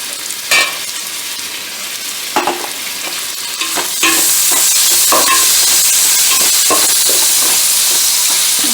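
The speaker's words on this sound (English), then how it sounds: "We will saute it until the tomatoes become mushy." Tomatoes with mint and coriander sauté in a pan, a few scraping stirs and clicks at first, then a loud, even hiss of frying that swells and holds steadily to the end, with no voices.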